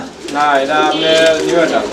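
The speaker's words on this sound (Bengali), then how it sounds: "আমরা এই মুহূর্তে দেখতে পাচ্ছি এখানে আরও একজোড়া কবুতর আছে" Long shape running pigeons coo close by, making loud, throaty, rolling calls that overlap one another, with a person's voice mixed in.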